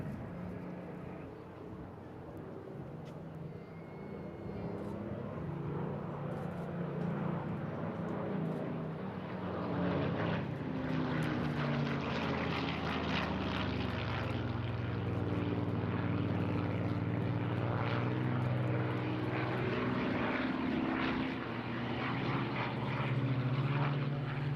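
A Supermarine Spitfire flies past at the Eastbourne International Airshow, its propeller engine growling steadily and swelling louder as it nears, with a commentator's voice over the drone.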